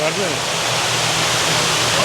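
Water pours down the Houston Water Wall in a dense, steady roaring hiss, close and continuous, with a faint voice briefly audible underneath.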